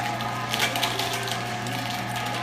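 A Weston 22 meat grinder churns through raw meat and bones, a loud continuous mechanical grinding hum with irregular crunching clicks and rattles layered over it, close up.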